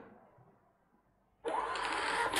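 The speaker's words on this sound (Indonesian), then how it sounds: "Maka printer akan mencetak bill." A restaurant receipt printer prints a bill after a quiet pause, giving a steady loud whirring buzz that runs to the end.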